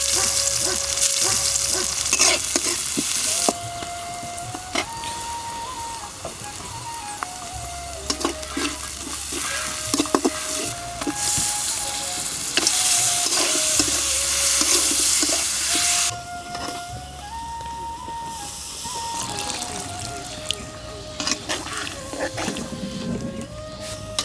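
Food frying in oil over a village cooking fire, with a steady sizzle, some stirring, and wavering bird or animal calls in the background. Nobody speaks.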